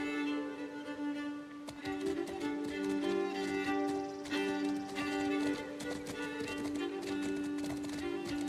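Horses' hooves clip-clop rhythmically in the video game Legends of the Round Table, a steady trotting patter layered over sustained tonal game music.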